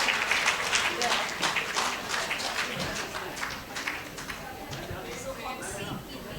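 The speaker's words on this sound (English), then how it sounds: "This requires a loud cheer and round applause for Mr. Dr. Jaideep Tank" A conference audience at a medical society oration gives a round of applause, with dense clapping that is loudest at the start and then slowly thins and fades, with voices mixed in.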